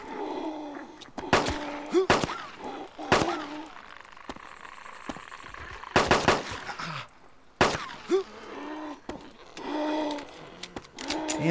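Gunfire in ArmA 2 DayZ Mod, several short bursts of shots separated by pauses, fairly loud and close, with ringing tails and some background noise between them.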